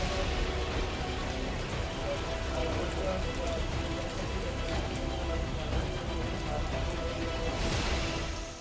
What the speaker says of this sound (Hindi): मानसून का सीजन है, बारिश होना लाजमी है